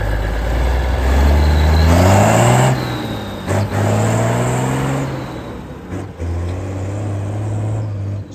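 Transport tractor engine revving hard and surging while struggling for traction in mud, loud and close, with rising and falling pitch and brief drops in power between bursts.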